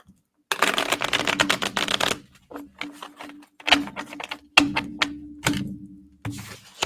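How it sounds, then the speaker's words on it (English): Tarot cards are shuffled close up, first in a long rapid riffling burst, then in shorter choppy bursts of flicking cards, with a soft voice murmuring at moments. "So let me shuffle these."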